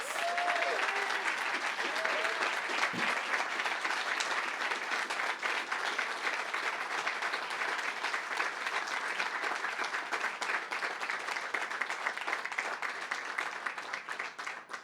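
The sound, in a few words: audience applause for Congressman Tony Cardenas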